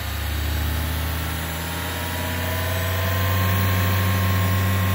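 A 1500 W brushless DC spindle motor runs steadily on a G0704 CNC mill, giving a continuous, fairly quiet hum with a faint higher whine and no talking.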